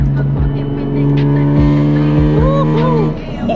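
Loud, deep exhaust rumbling close by from a BMW E46 M3 with its exhaust valves opened, with revs rising and falling; a voice exclaims over it.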